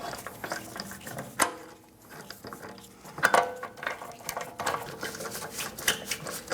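A socket ratchet clicks in rapid bursts, with pauses between them, as lug bolts are threaded and snugged onto a rear wheel of an Audi Q5, close and clear, with no talking.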